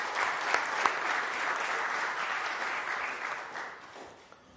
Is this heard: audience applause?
yes